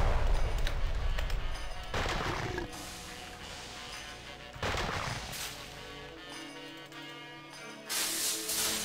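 Pipe bomb exploding in the Space Station 13 video game, loud booming blasts in bursts over a rumbling background, with sharp repeated bangs and no talking.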